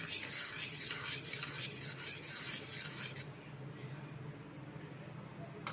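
A spoon stirs three spoonfuls of sugar into fresh lemon juice, scraping in a quick, rhythmic series of strokes for about three seconds before dropping to a softer, steadier rub.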